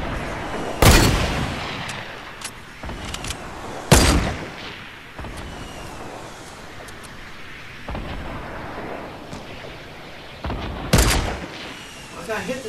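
Gunfire in Fortnite Battle Royale, with three loud sharp blasts spaced several seconds apart over a busy rumbling mix of smaller shots and game noise, while a player talks throughout.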